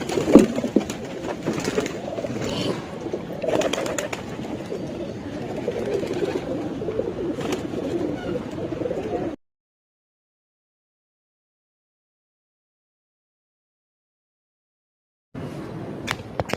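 Pigeons coo in low, soft, repeated murmurs amid rustling and faint clatter as a pigeon enters a loft, then a long stretch of silence before the cooing briefly resumes.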